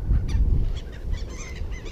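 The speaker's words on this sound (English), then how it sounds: "Seagulls are always watching." Seagulls call in short, shrill bursts over a steady low rumble at an outdoor spot where the birds are being fed with crackers, several cries overlapping throughout.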